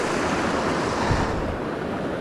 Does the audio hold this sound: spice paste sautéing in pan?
no